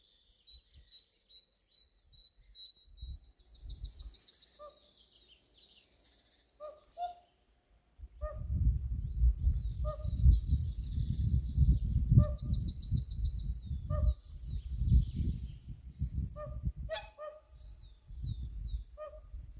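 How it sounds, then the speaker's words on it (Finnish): Swans call from near a lake in a Finnish bird sanctuary, a series of faint high honks and trumpeting notes over quiet ambience, later joined by a louder low rumbling background. "Tuolla on joutsenia."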